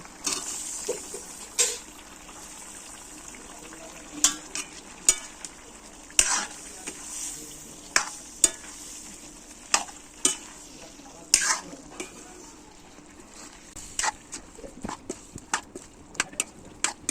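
Boiled taro added to a pan of cooking coconut curry, a quiet sizzle under sharp intermittent clacks of a spoon stirring against the pan, the scraping spaced out and irregular.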